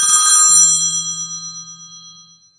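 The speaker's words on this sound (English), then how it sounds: "Bad time for a phone call." A phone rings during a live stream: a bright electronic ringtone chime that rings out and then fades in a slow, wavering decay, with no talking.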